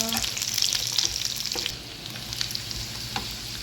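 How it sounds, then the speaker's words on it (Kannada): Curry leaves frying in hot oil give a steady, close sizzle with light crackling and stirring, and no voices. "ಅದ್ರ ಜೊತೆಗೇನೆ ಕರಿಬೇವಿನ ಸೊಪ್ಪು ಹಾಕೊತಾ ಇದ್ದೀವಿ. ಫ್ರೈ ಮಾಡ್ಕೊಳ್ಳೋಣ."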